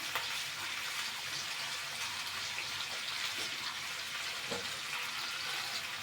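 Onions fry in a pan while a tagine is being made, a soft, steady crackling sizzle heard close but fairly quiet, with a couple of faint utensil knocks and no talking.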